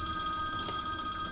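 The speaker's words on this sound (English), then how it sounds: "That's my phone." A mobile phone rings with a steady electronic tone that holds without a break. It is moderately loud over faint room noise, and nobody speaks.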